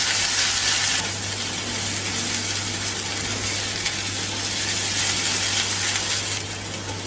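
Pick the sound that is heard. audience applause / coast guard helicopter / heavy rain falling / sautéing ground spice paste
sautéing ground spice paste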